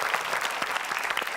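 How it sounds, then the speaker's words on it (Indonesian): Brief, lively clapping from a television studio audience applauding a team on a game show, close and dense throughout. "kita beri tepuk tangan buat tim B."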